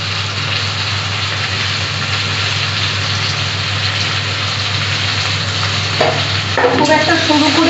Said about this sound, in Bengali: এবার আমি পেঁয়াজগুলো দিয়ে দিচ্ছি